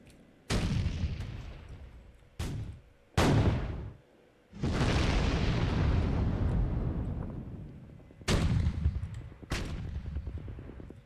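Heavy shelling and gunfire in the Sudden Strike 3 war strategy game: a series of loud, booming blasts with long rumbling tails, several separate bursts spread across the stretch, with no talking.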